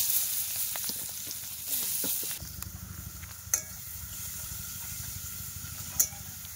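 Chopped onions dropped into hot oil with a little sugar, a bright crackling sizzle that drops to a softer fry with occasional sharp pops and spoon clicks, close by and without talk.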